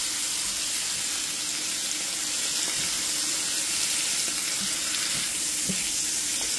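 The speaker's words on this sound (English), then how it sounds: "we want to go ahead and add our morels. You want to have a really nice hot pan." Morel mushrooms sizzle in butter in a hot pan, a steady broadband hiss and crackle that runs unbroken from start to finish, close and fairly loud, with no talk over it.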